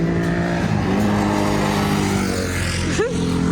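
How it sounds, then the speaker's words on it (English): A motorcycle engine approaches and passes by on a road in the Basque Country, rising in pitch with a sharp rev near the end over steady road noise. "Oh, I hear a motorcycle coming."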